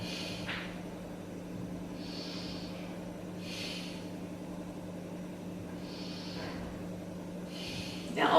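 Slow, steady breathing during a yoga pose, with four soft, airy breaths spaced a couple of seconds apart, close and quiet over a low steady hum.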